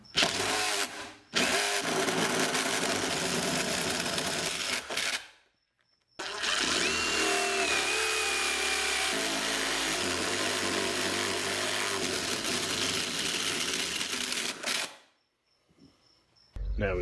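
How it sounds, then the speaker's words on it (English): A power drill bores holes while a DIY bike wash station is built: three long, loud whirring runs with a shifting pitch, separated by brief silences. "let's finish drilling these holes out and get them mounted."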